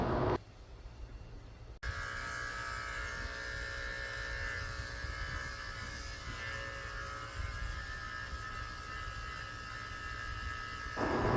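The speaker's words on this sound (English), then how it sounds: "I'm shaving his whole belly out with a tin blade" Electric clippers with a metal blade buzz steadily while shaving the belly of a senior Yorkshire terrier during grooming, a close, even hum that runs almost unbroken for about nine seconds with no talking.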